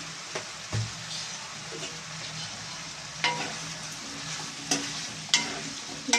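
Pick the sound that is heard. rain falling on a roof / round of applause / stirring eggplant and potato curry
stirring eggplant and potato curry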